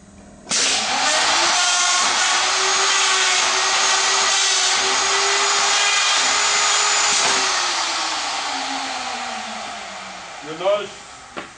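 A KVAL 950-3 hinge jamb machine routes a 1/4 radius pocket with a 1/2 inch bit, giving a loud, steady motor whine and cutting hiss for about ten seconds that winds down, followed by a few brief clunks.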